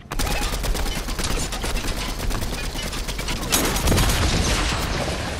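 Rapid gunfire from a Fortnite battle fills the whole stretch as dense, continuous bursts, loud and close, with a heavier burst near the end.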